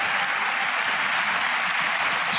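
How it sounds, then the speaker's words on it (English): An audience gives a big, steady round of applause for the First Lady, a continuous and evenly loud wash of clapping with no voices over it. "Can we give a big round of applause for the First Lady on that?"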